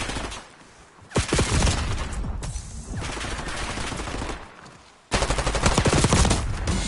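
SMG gunfire in a video game: loud, rapid automatic bursts in several stretches, with a brief lull between volleys, close and harsh, no talk.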